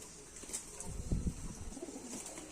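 Pigeons coo softly in Rahul's loft, a few low throaty bursts around the middle over faint background rustle and distant chirps, with no speech.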